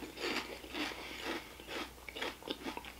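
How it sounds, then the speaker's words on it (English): Crispy potato chips crunch loudly and close up as someone bites and chews, giving a series of sharp, brittle cracks in an irregular rhythm with no talking. "these have much more of a crunch to them"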